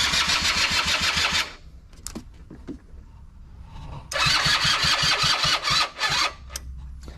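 A car engine cranks, catches and runs roughly for a moment, then dies, followed by more cranking and sputtering. The sounds are loud and close, and no one speaks.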